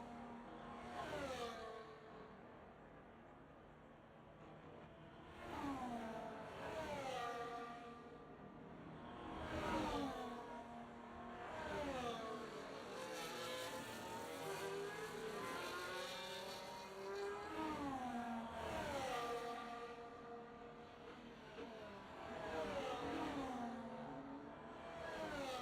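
Racing video game cars at the Austrian Grand Prix: several engines whine and rise in pitch through repeated upshifts, overlapping revs sweeping up and down continuously, moderately close and without talk.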